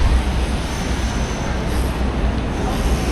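A New York subway train rumbles beneath the street near the Flatiron Building, a loud, continuous low roar with broadband noise and no distinct pauses.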